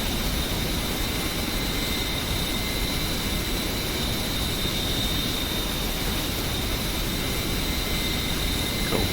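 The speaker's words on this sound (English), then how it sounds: "we've got the AH-6J on her way" Engine drone of an AH-6J helicopter in a flight simulator, taking off from Kobuleti toward Batumi: a steady, loud broadband roar with a constant high whine, running unbroken and alone.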